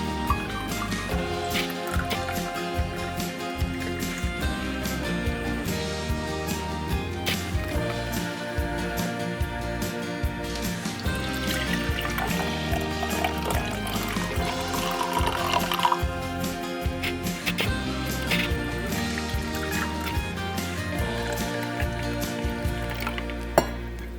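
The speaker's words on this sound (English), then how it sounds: "So we've poured up our tea" Homemade green tea is poured and liquid splashes in fits and starts for a long stretch, dense and close, with wet squishy dripping sounds and no voices.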